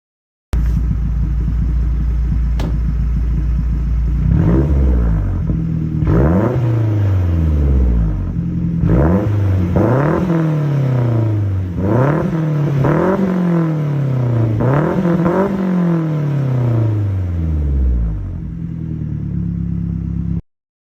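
A Ford Focus RS hot hatch driven in sport mode with the shocks in normal, engine revving up repeatedly through gears with rising and falling sweeps, loud interior rumble and no talking.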